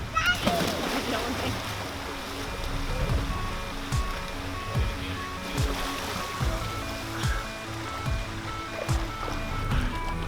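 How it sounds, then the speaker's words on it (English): Water sloshes and splashes in a swimming pool during a drowning rescue drill, a steady churning wash with sharper splashes near the start, while people talk over it. "Dad's going to go ahead and jump in safely and get the person that needs to be rescued out."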